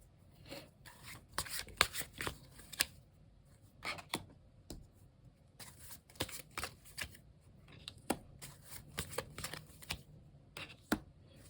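A deck of tarot cards is shuffled by hand in a quiet room, giving repeated soft riffling bursts and light slaps in an uneven rhythm, close and fairly faint.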